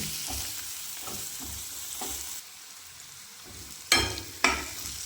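Tadka tempering sizzles in a pan with soft stirring scrapes, settling quieter midway before two loud sharp bursts of crackle near the end; no speech.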